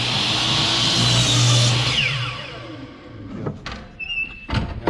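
Miter saw crosscutting a marked piece of wood: a loud, sustained whine through the cut that winds down, followed by a few short knocks and clatter as the blade rises and settles.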